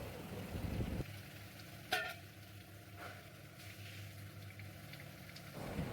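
Half a kilo of washed chicken goes into a pan of softened, sautéed tomatoes for a Tamil chicken kurma, setting off a quiet, steady sizzle with one brief clatter of the ingredients landing early on.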